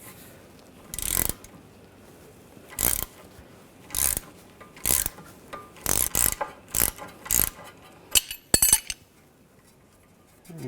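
A ratchet wrench clicks in short, loud bursts of about ten strokes, loosening a nut on the control arm of a 2009-2010 BMW 535i xDrive, close up with no talking.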